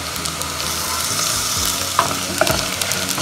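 Kashmiri chili powder and turmeric frying in oil for a milkfish curry, a steady close sizzle with scattered stirring scrapes and a couple of sharper clinks, no talk.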